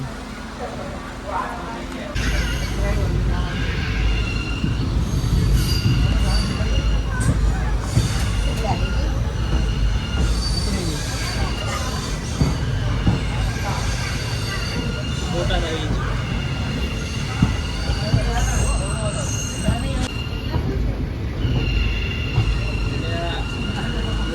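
A train rumbles loudly and continuously at Bhavnagar railway station while people talk nearby, with occasional higher squeals and beeps.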